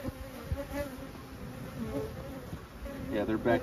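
Honey bees buzz steadily around an open hive during a brood and nectar check, a dense close insect drone with wavering pitch that swells louder near the end.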